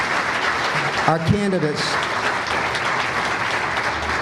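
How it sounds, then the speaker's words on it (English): A debate audience applauds in Wichita, Kansas, at the 2014 governor's race between Sam Brownback and Paul Davis, a loud, steady wash of clapping while a voice speaks briefly over it. "let's give a great round of applause"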